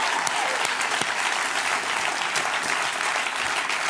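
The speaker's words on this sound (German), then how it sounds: "Großen Applaus für den Look der Woche." Steady, dense applause from a TV studio audience on a German late-night comedy show, loud and continuous throughout with no break.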